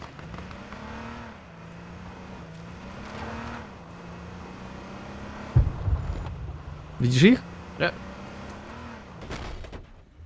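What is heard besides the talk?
car driving in the video game H1Z1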